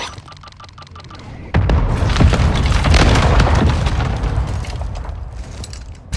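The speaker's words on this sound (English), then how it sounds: "Hostile mortar strike near your position." A mortar strike in Call of Duty: Modern Warfare II lands with a sudden heavy boom, followed by several seconds of rumbling blasts and debris that slowly fade, loud and near.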